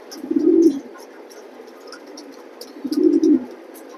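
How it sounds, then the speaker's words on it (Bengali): A pair of racing pigeons for sale, giving two low, throaty coos about two and a half seconds apart, with a faint chirping of insects or distant birds behind them. "অনেক ভালো এক জোড়া কবুতর ভাই"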